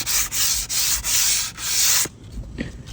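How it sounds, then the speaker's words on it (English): Five rhythmic strokes of hand sanding rasp against a painted wooden rocking chair, close and loud, then stop, leaving a few faint taps and scrapes. "as you're sanding this off, you're actually sanding this too"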